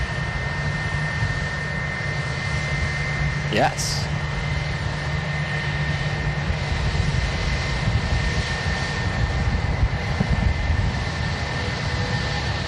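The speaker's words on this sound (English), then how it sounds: "There is a plane rolling on the runway. Oh, it's Jet 2757." A Jet2 Boeing 757 rolling down the airport runway, a loud, sustained jet engine roar and rumble that holds steady and swells slightly, with a person speaking briefly over it.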